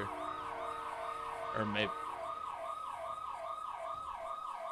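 An ambulance siren wails in a role-play driving video game, rising and falling in a steady repeating cycle while a vehicle passes briefly and a voice speaks a few words.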